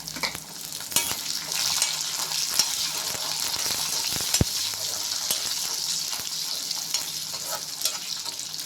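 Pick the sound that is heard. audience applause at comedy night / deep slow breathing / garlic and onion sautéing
garlic and onion sautéing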